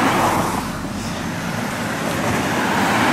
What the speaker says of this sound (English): You can hear the cars going by.